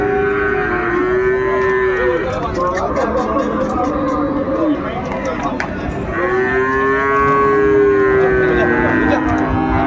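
Two long, loud cow moos close by at a cattle market, separated by several seconds, over a background of people chattering.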